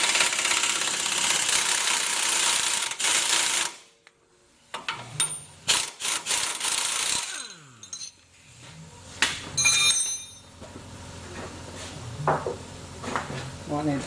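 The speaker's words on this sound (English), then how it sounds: "use a breaker bar or a ratchet, 19mm socket and a 19mm spanner, and loosen that bottom bolt" A ratchet clicks and metal tools clink while a 19mm bolt on the bottom of a Toyota Prado front strut is loosened, with bursts of ratcheting, pauses and tool handling close by, and some voice in the background.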